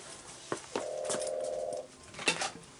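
A telephone rings in a baseball glove shop during glove work. A few clicks lead into a steady electronic tone lasting about a second, followed by another short burst, all close and fairly quiet.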